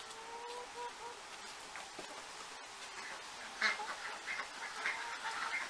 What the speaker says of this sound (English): Here we have ducks.